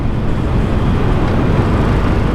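A 2018 Harley-Davidson 48 Sportster 1200 motorcycle engine accelerates on the road, a loud, steady low rumble mixed with heavy wind buffeting and no speech.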